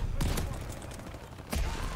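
Gunfire in the Call of Duty Vanguard video game, with loud broadband bursts near the start and again after a lull, amid continuous game noise.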